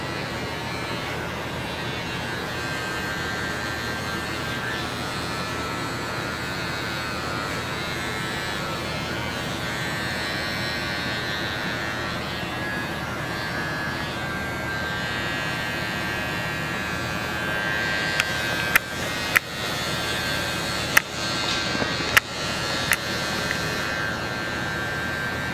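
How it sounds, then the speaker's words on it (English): Electric hair clipper cutting a flat top haircut, buzzing steadily and close for a long stretch, with a few sharp clicks and taps near the end and no talk. "Can I adjust the clipper and work on this line here?"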